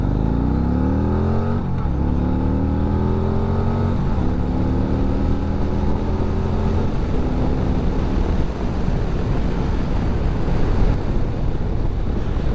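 Harley-Davidson Street Glide or Indian Chieftain 112 bagger motorcycle pulling hard at full throttle from about 15 mph, engine note climbing through rising gear sweeps with shifts, loud under strong wind rush.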